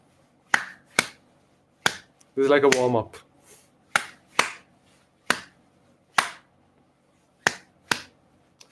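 Sharp, crisp claps ring out one at a time in a spaced rhythmic pattern as people clap along to a beat in a rhythm session, each hit clean and separate, with a short spoken phrase breaking in partway through.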